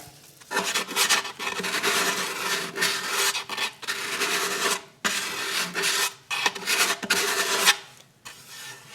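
Hand sanding on the wooden rosette of a guitar produces a close, brisk rasping scrub in repeated back-and-forth strokes, with brief pauses between bursts and no talking.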